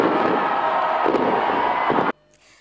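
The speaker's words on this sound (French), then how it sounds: "Les feux d'artifice aux beautés splendides ont illuminé le ciel du stade Idriss Mahamad Ouya et toute la capitale." Fireworks burst over a stadium in the capital during a celebration, a dense, loud continuous crackling and rumbling that cuts off abruptly near the end, leaving quieter ambient sound.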